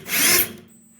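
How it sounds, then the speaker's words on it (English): A power drill bites into a spot weld on the floor pan of a 1969 VW bay window bus, one short, loud, high-pitched metal grinding burst that stops abruptly. "and really drill out each one of these."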